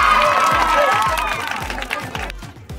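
A crowd at a ball-hitting prize game claps together in a dense burst of applause that fades toward the end, over a thumping low beat and scattered voices.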